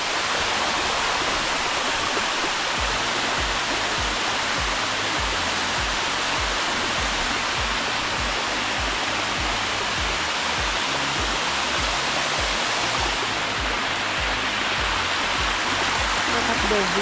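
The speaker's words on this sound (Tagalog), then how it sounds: "this is Dao Falls" Dao Falls in Cebu roars as a loud, unbroken wash of falling water close by. The rush holds steady throughout, with no clear talk over it.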